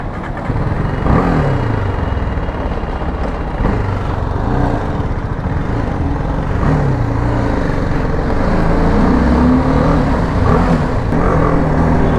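A BMW G 310 GS motorcycle rides and accelerates, its single-cylinder engine droning loud and close throughout, with rising and falling revs as the throttle opens, alone without speech.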